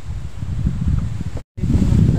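Strong wind buffets a small moving fishing boat out on the water, a loud, close rumbling roar of wind noise against the microphone that cuts out briefly and then comes back even stronger.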